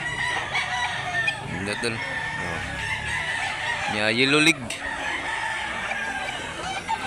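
Roosters at a poultry farm in Mantalungon, Barili, Cebu crow a couple of times over a steady background, with someone talking throughout and partly overlapping the calls.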